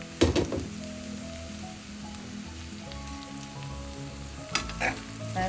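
Long beans stir-fry in an open pan on a medium flame, with a low continuous sizzle and a couple of louder stirring clatters at the start and near the end, close up with no talk.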